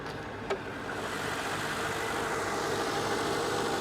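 Mercedes SL AMG engine idling quietly and steadily, a smooth, even hum close by with a single brief click near the start and no voices.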